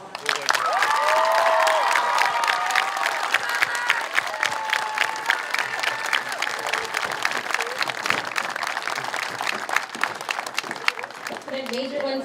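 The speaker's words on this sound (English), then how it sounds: "How about a round of applause?" Sustained audience applause with some cheering fills a JROTC awards ceremony hall, dense steady clapping from a large crowd lasting throughout, with scattered voices mixed in.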